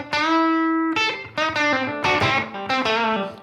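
An electric guitar played through the Air Apparent distortion effect on a Helix Stadium processor rings out with held, overdriven notes and chords. The notes are loud and saturated, with sharp attacks and sustained harmonics, and no one speaks.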